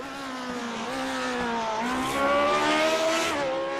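Lotus 79 race car engine in a retro Grand Prix racing video game at Motegi, a loud high-pitched revving whine rising and dropping through gear changes, close and continuous.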